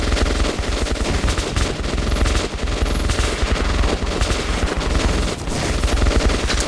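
Dense, loud automatic gunfire from the video game Metro 2033 Redux, continuous rapid bursts of shots overlapping throughout with no talk.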